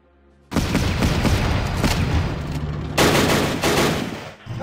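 Sustained gunfire in the war strategy game Battle Academy. After a brief quiet start, rapid overlapping shots form a loud, dense barrage with a heavier surge partway through.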